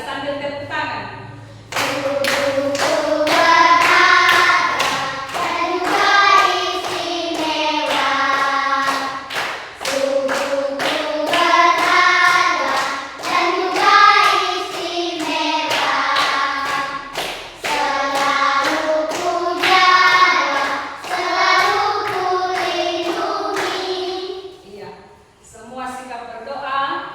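Steady hand claps keep rhythm along with a group singing a children's praise song in a classroom, the claps tapping through the singing from start to finish.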